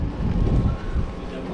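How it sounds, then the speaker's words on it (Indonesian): Wind picking up outdoors on a fishing raft as the weather darkens, a low rumbling gusty rush buffeting the microphone, swelling then easing over a brief moment. "Tengok dah start angin dah."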